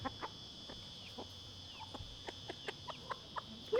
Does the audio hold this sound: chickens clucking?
yes